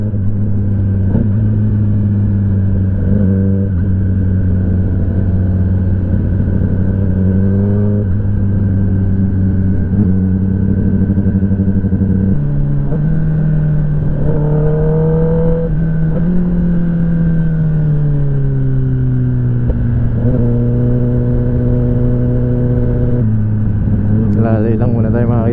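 Kawasaki ZX10R motorcycle engine on a racetrack, a loud steady drone with the pitch rising and falling through several rev changes and shifts, talk over it throughout.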